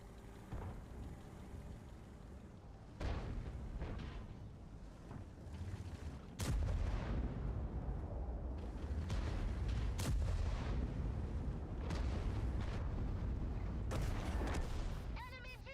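Tank cannon fire and explosions in the World of Tanks video game, with several sharp loud booms spaced a few seconds apart over a dense, rumbling battle din.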